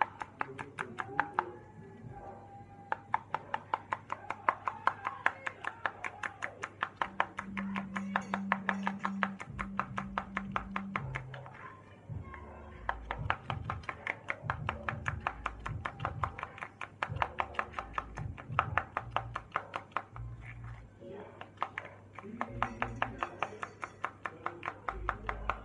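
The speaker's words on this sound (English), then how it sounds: "So I keep stirring." A spoon stirs homemade baby lotion cream in a cup, making fast, even clicking taps against the side that run almost without a break. A low hum and faint tones sit underneath, and nobody speaks.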